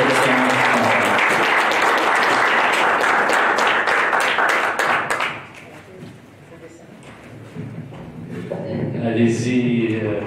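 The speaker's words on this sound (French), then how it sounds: "on les applaudit beaucoup pour leur protection" Audience applause at a public debate, loud dense clapping for about five seconds that then drops away, followed by someone speaking in French.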